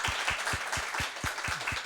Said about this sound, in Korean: 삼세션을 발표해 준 두 분 발표자분들을 위해서 박수 한번 부탁드리겠습니다